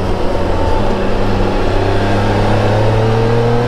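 A 2020 Can-Am Spyder RT Limited three-wheeled motorcycle engine pulls steadily under load, a loud, close drone with a rising whine layered over a low rumble.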